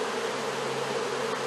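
Honey bees hum in a continuous close buzzing drone while a swarm is being installed into a hive, steady and fairly loud with no talking.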